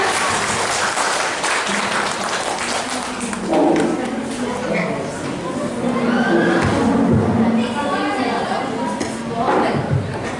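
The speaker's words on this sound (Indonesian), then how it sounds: "Boleh kasih tepuk tangan dulu?" Applause from an audience at a school teachers' presentation event, a sustained round of clapping with crowd chatter and voices rising over it throughout.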